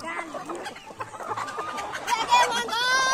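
Chickens and a rooster cluck close by in a farmyard, a rapid string of short, uneven calls that grows busier and louder toward the end.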